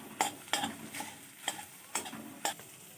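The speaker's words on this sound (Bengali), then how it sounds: "খুব বেশি ভাজবো না, হালকা করে ভেজে নেব।" A lightly salted egg fries in a pan with a soft background sizzle, punctuated by six evenly spaced metallic scrapes or taps of a utensil about every half second, close and moderately quiet.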